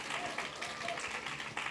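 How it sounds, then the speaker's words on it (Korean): A youth worship congregation gives brief, fairly faint applause for the worship leader: a short patter of clapping with a murmuring crowd. "박수 한번 주시고요"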